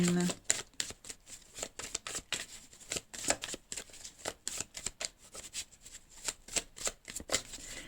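Tarot cards being shuffled and drawn at a table, a steady run of soft, rapid riffling flicks and slaps close up, continuing for several seconds with a brief faint tone at the start.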